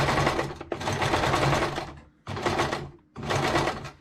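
A sewing machine stitches fabric bunting in three loud, close bursts of rapid mechanical whirring, separated by short pauses, with no voices.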